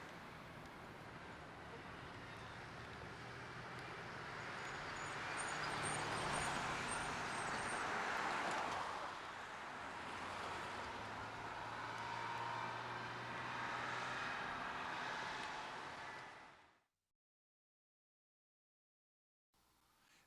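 A Lansdowne-based classic Toronto city bus on the Runnymede Road route at the Queensway and South Kingsway, a low steady engine hum with passing traffic around it, fading out near the end.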